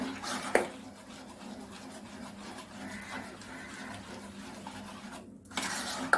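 Ashoka flower pudding stirred in a pan over a low flame gives soft, steady scraping with a few light metallic clinks of the utensil against the pan, quiet and close.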